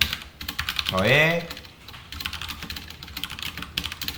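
Code being typed on a computer keyboard in a web programming lesson, with rapid irregular key clicks running through most of the stretch, briefly interrupted by a spoken word from a man.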